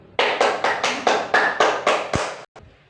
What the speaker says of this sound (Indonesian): Jadi kita berikan aplaus ya buat Mbak Erni